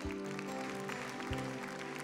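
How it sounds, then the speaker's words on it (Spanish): A church congregation applauds during a sermon, producing steady, even clapping throughout, with a sustained musical tone underneath. "Denle un buen aplauso a nuestro Dios"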